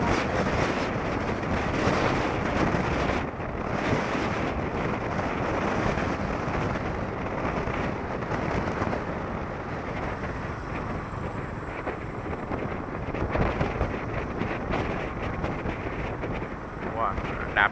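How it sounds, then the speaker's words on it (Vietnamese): A strong northeast wind sweeps along the seaside beachfront, roaring steadily and buffeting the microphone for the whole stretch, loud and unbroken with no clear voices. "Giờ hướng này hướng gió đông bắc đang thổi mạnh nè"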